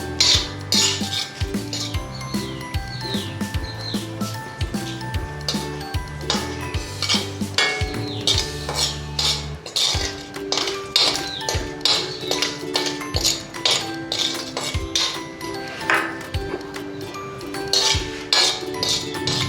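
Almonds and cashews roast in a pan for a winter sonth-gond barfi, with busy rhythmic clinks, taps and scraping of a utensil against the metal over a faint sizzle, continuous and near.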